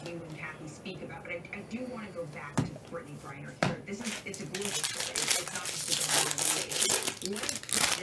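Packs from a case of 2022 Bowman Baseball Jumbo cards are ripped open. Foil wrappers crinkle and tear under continuous talking, and the crackling grows louder and busier toward the end.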